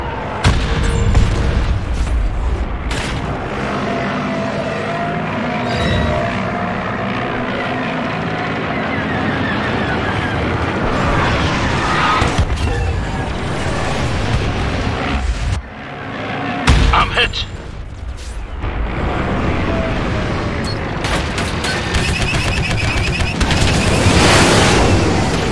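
Starfighter combat in Star Wars Battlefront 2: dense, loud continuous roar of engines and blaster fire with repeated heavy explosive booms throughout, a few sharp bursts standing out, and brief sudden dropouts.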